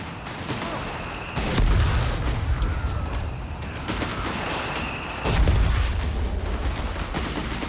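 Dense battlefield gunfire from Company of Heroes 3 during a 4v4 match, continuous rifle and machine-gun rattle with two heavier bursts standing out, loud and sustained.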